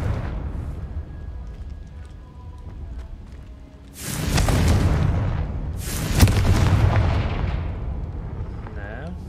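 Confringo fire spell in the video game Hogwarts Legacy, heard as two loud booming blasts a couple of seconds apart, each with a crackling burst that decays over a low rumble.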